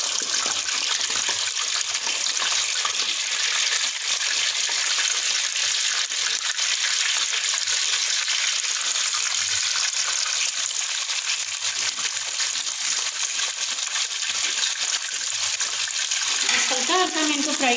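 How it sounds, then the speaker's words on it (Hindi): Stuffed bitter gourds (karela) filled with minced meat frying in oil in a pan, a steady bright sizzle running continuously and fairly close, with a brief clatter near the end. "ये देखिए इस तरह से मैं इनको फ्राई कर रही हूँ।"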